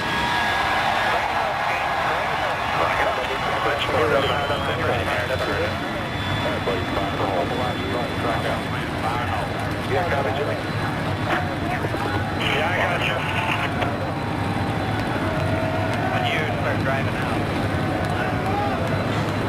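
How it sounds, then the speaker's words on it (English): NASCAR Sprint Cup stock car engines start and roar at the 2012 Federated Auto Parts 400 in Richmond, a loud sustained mechanical drone with crowd and announcer talk layered over it throughout. "gentlemen, start your engines"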